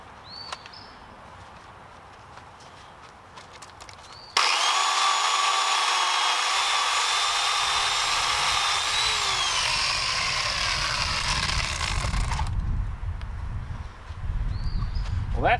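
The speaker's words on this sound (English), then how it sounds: "I'm really pleased with how this little Toro chainsaw works." Small Toro chainsaw cutting firewood during spring cleanup, a loud close high-revving whine that bursts in, holds steady for about eight seconds through the cut, then drops away to quieter outdoor sounds.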